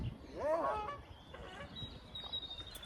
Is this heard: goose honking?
yes